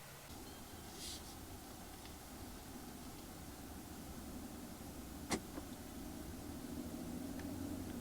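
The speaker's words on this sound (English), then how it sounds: "Here we are driving the GLS450, and I've got to say it's a very quiet interior." Cabin of a 2024 Mercedes-Benz GLS450 on the move, a soft, steady low road and wind hush with very little engine presence, one faint sharp tick partway through, and no voices.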